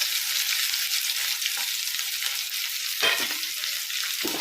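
Chopped shallots sizzle and fry steadily in a pan, a loud continuous crackle with a brief stir or scrape about three seconds in; no one speaks.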